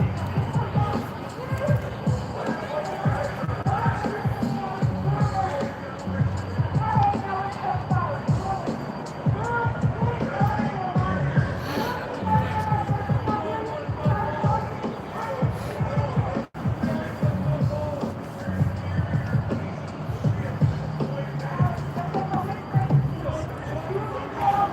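Protest crowd at the Portland ICE protest, a steady outdoor hubbub of many voices with shuffling and movement, continuous and moderately loud throughout with no single voice standing out.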